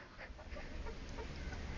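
A hen clucks softly in short, uneven bursts, faint and close, over a low background hiss, with no voices.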